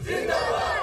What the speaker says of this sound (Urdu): شرکاء نے پاک فوج کے حق میں نعرے بازی کی